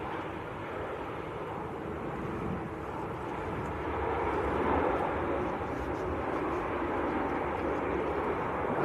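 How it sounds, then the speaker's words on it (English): An EasyJet Airbus A319 on final approach in gusty wind at Manchester Airport, a broad steady engine roar that swells slightly midway, with wind buffeting the microphone. "Little A319 of EasyJet"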